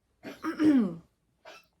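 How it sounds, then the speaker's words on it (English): A 13-year-old dog gives a couple of dry, hacking coughs nearby, followed by a brief pause and one short final cough. "That's my dog coughing."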